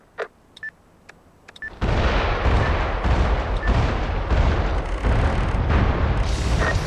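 In the game MAG an artillery strike begins firing after a few faint clicks, then breaks into a sustained, loud wall of rumbling blasts and explosions that runs continuously to the end.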